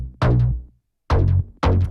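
Layered synth bass built from Logic Pro Alchemy samples plays three loud, punchy notes in a short rhythmic pattern, each with a bright attack and a deep sustained low tone, heard alone.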